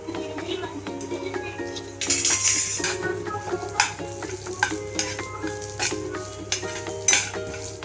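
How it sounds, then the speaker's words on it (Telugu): Chana dal, urad dal, cumin and sesame seeds dry-roasting in a pan, stirred with a spoon: a steady light sizzle with scraping and clinking against the metal throughout, and a voice speaking in the background. "ఇవన్నీ వేపించేసుకుందామండి."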